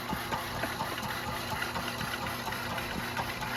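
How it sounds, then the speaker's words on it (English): An old antique air compressor plugged in to air up tires on a 1935 Chevy coupe, running with a steady low mechanical chug and rhythmic pulsing, fairly quiet and continuous throughout. "So Grandpa's gonna plug in his old antique air compressor."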